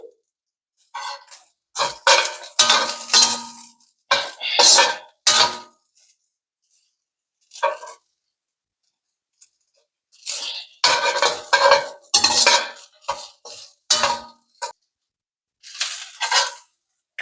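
Egg fried rice is stirred in a pan as sesame oil goes in, making bursts of close metallic scraping and clinking from the utensil against the pan, separated by quiet pauses.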